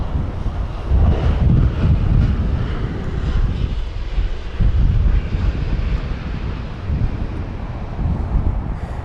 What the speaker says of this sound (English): So there's the pushback of the Turkish Airlines A330-300.